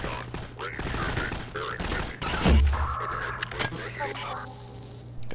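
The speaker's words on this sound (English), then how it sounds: "Got some sniping going down." Sniper gunfire from Half-Life 2 Episode Two, several sharp shots and bursts cracking through a busy game scene, with a louder thumping hit midway and someone talking over it.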